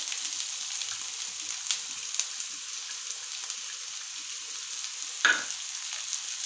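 Onion and garlic fry in hot oil for fried rice, giving a steady close sizzle with a few light stirring scrapes and one louder clank near the end.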